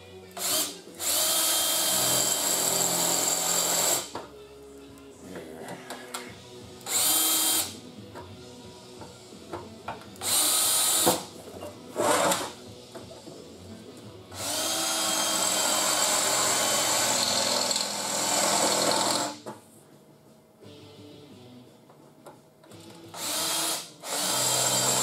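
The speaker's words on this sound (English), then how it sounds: "gonna have to sharpen this drill bit or get another one." A power drill with a dull bit bores into sheet metal while a Triumph TR3 is being repaired, several loud whining bursts of varying length separated by quiet pauses, close and alone.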